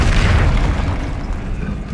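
A fire spell cast in the wizarding video game Hogwarts Legacy, heard as a loud whooshing burst that roars at the start and thins into a rumbling crackle over two seconds, with no talk.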